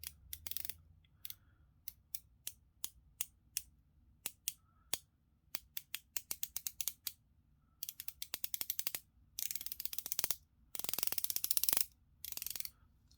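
The rotating bezel of a SteelDive SD homage dive watch, 120 clicks per turn, a quiet, close series of crisp ratcheting clicks, first spaced out, then coming in fast bursts.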